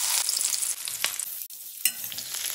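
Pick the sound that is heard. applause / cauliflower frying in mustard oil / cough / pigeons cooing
cauliflower frying in mustard oil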